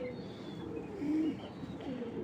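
A 2022 racing pigeon hen gives one soft, brief coo close by over a low, hazy background.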